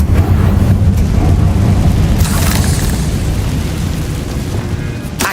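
A Confringo fire spell goes off in Hogwarts Legacy, a loud, sustained rumbling blast with a brief bright crackle near the two-second mark. The roar then slowly fades over about five seconds, with no talk over it.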